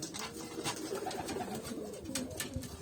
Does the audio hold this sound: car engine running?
no